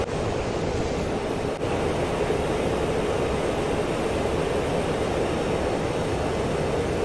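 A jet aircraft in the DCS combat flight simulator game roars steadily and loudly throughout, a constant broadband engine and wind rush with no voices.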